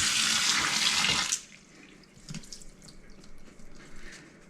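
Tap water runs loudly while a Winix C535 air purifier filter is rinsed, a steady broadband gush for over a second that cuts off abruptly, leaving faint drips and small handling noises.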